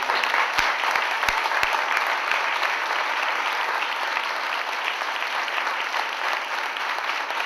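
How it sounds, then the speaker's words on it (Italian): A community audience applauds former mayor Vincenzo Montanari in Villanterio, near Pavia: continuous, fairly soft crowd clapping with a few sharper claps standing out early on. "Facciamogli un applauso."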